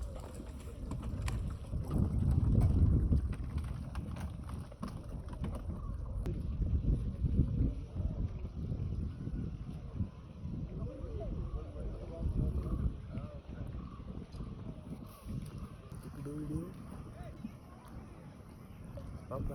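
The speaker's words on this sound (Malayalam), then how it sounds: "അങ്ങനെ ചങ്ങാടം അടുത്തെത്തി." A bamboo raft glides across the lake at Thekkady, with steady wind and water rumble throughout and people talking in the background.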